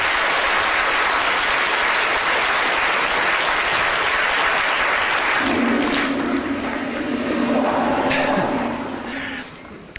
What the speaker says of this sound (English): Big round of applause for Emily